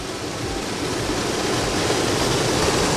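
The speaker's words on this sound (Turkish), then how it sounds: "işte şelalenin döküldüğü yer, bir kısmı burası" A waterfall in Muğla, Turkey pours down as a steady, close, full-bodied rush of water, unbroken and slightly building over a few seconds.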